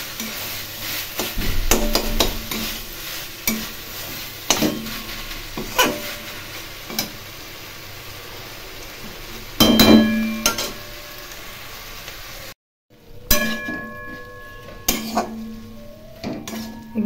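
Banana flowers frying with spices in a pan, a soft sizzle beneath repeated sharp scrapes and clanks of a spatula on metal, one louder clatter midway, then a brief gap before stirring continues.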